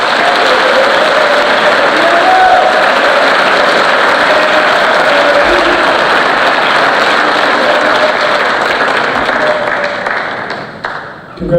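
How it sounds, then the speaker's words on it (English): An audience at a senior awards ceremony for cadets breaks into loud, sustained applause, dense clapping that fills the hall for about ten seconds before tapering off. "Let's give these two cadets a round of applause."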